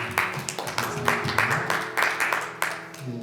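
Steady applause from a congregation inside a church, many hands clapping together with a few sharper claps standing out, continuous for a few seconds.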